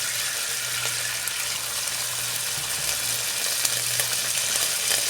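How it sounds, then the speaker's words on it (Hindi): Ginger garlic paste sautéing in a hot pan, a steady close sizzle and hiss that runs unbroken throughout with a faint low hum underneath. "अदरक लहसुन पेस्ट डाला। सौते कर लेंगे अच्छी तरह से।"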